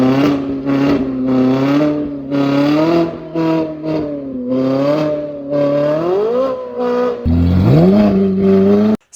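A warmed-up Ferrari engine runs loud and close, holding a steady throaty idle with repeated blips, then climbs in a rising rev near the end before cutting off abruptly.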